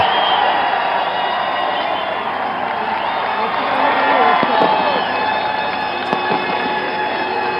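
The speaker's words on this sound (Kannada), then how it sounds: "ಓ ಈಗ ನೋಡಿ ಹರ್ಷೋದ್ಗಾರ ಹೇಗಿದೆ ಅಂತ ಲೈವ್" Large crowd at an open-air political swearing-in ceremony at Shivaji Park, Mumbai, cheering in a steady, dense roar that swells midway, heard continuously with some voices rising out of the mass.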